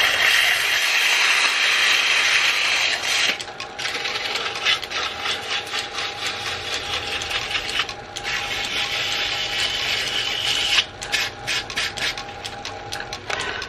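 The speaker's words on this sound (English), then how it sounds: "I think I should try a little bit of sandpaper to help clean this up." Sandpaper rubs against a metal Morse taper spinning on a lathe, a steady close abrasive hiss over the motor's hum, with small rhythmic fluctuations as the paper is pressed and shifted.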